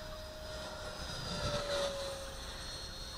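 Steady whining hum of a Eurofighter 980mm RC model jet powered by a 4S 64mm Mercury electric ducted fan, flying at a moderate distance and swelling slightly louder as it passes, with no talk.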